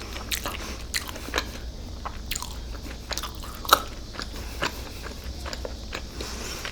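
Close, crisp bites and crunching chews on Taco Bell rolled chicken tacos with spicy ranch sauce, repeated in an irregular rhythm with soft mouth sounds in between and no talking.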